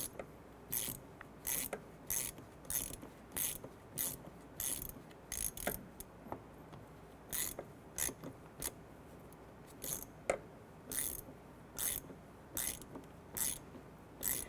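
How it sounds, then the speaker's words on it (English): A hand ratchet with a 19mm deep socket threads an air intake temperature sensor into a 1994-2004 Chevrolet S-10, giving short repeated bursts of close, crisp clicking separated by brief pauses. "We're going to use a 19mm deep socket and go ahead and thread it in just like so."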